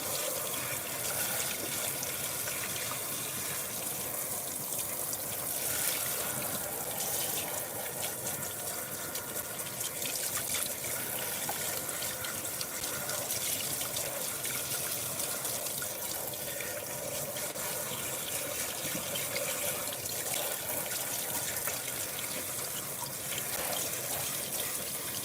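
Tap water runs steadily into a sink while thick shampoo and conditioner are rinsed out of a doll head's hair, a continuous broadband wash of flow that stays even and close throughout with no talking.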